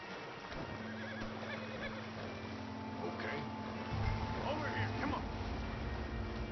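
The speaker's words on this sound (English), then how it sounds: "I will catch and mount this horse over here." Horses neigh and whinny with clip-clopping hooves in the Red Dead Redemption 2 video game, a steady layered game soundscape with voices talking over it throughout.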